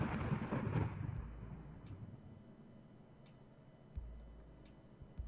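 A rolling thunder rumble in the video game Dream Daddy: a loud, deep crash in the first second that fades into a low rumbling tail, with a softer thump near the four-second mark.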